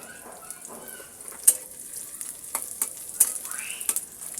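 Onion frying in oil for red lentil dal with papaya, a faint crackling sizzle with scattered sharp pops and a few light stirring clinks, no voices.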